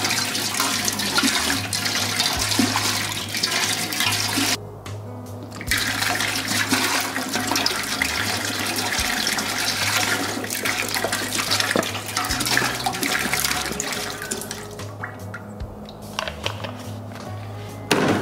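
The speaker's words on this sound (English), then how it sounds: "Now I'm gonna add enough water to cover the head." Water runs steadily from a tap into a container to cover a deer skull being prepared for a European mount, a loud continuous gushing with two brief pauses and no talk.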